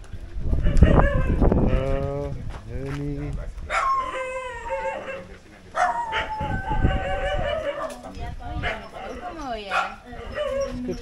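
A pack of dogs at a place that sometimes keeps around forty of them, barking, yipping and whining in an overlapping chorus. Several barks are close and loud, others come from further off, and voices talk in between.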